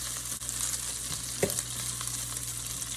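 Onions and bacon fry steadily in a pan for hamburger sliders, a continuous close sizzle with a single brief clatter midway and a low hum running underneath.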